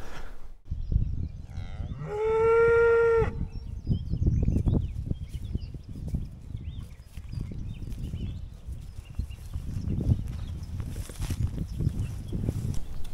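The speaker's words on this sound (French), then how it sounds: "Le Cher a à peine commencé à couler qu'il y a déjà des vaches qui traînent dedans." A cow gives one loud, drawn-out moo near a shallow stretch of the river Cher, followed by splashing and shuffling hooves in the water and faint birdsong behind.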